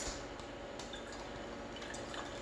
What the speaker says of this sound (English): Just pour off the grease